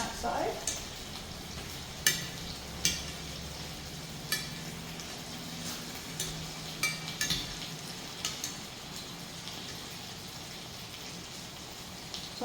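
Lamb chops sear in hot oil in a skillet, a steady broad sizzle with scattered sharp pops and spatters over a low hum, continuous and fairly faint throughout.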